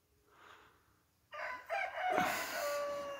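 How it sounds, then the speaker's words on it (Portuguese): Roosters crowing at dawn outdoors, a faint early call followed by louder, overlapping crows from nearby birds, drawn out and sustained. "Os galos cantando."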